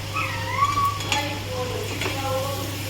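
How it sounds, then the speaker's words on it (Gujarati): Chips sizzle and crackle in hot oil, a steady frying hiss with occasional stirring clinks and a low hum underneath. "તો આપણે તળી નાખી ફટાફટ"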